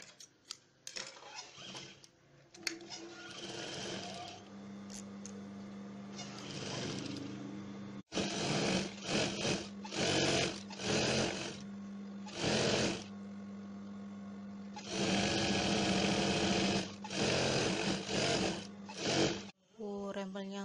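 A sewing machine ruffling the middle section of a bedcover runs in several bursts of steady whirring, separated by short pauses and handling noises.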